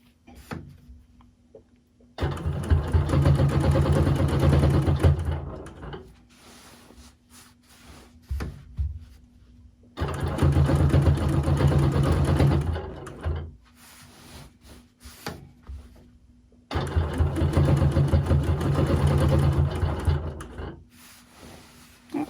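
Sewing machine running in three long bursts of free motion quilting with a ruler on a pillow, a loud steady motor whir, each burst separated by quiet pauses.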